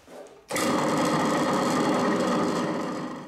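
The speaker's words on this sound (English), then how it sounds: "A couple of blobs of weld on the top of that rod just to hold it securely." An electric welder laying blobs of weld onto the top of a rod for a tapping head bracket in a home workshop shed, a close, steady buzzing crackle starting abruptly and holding for about three seconds.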